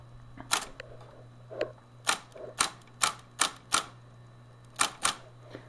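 Keys on a Smith Corona electric typewriter, opened up and run upside down, snap in a series of about nine sharp, loud mechanical clacks at irregular intervals over a steady low motor hum.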